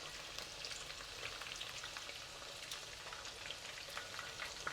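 Bone-in pork ribs fry steadily in hot oil, making a dense, even crackle and sizzle with scattered pops, close and unbroken, no talking.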